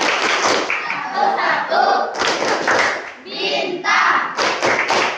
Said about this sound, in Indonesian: Oke, sekarang kita tepuk Pancasila.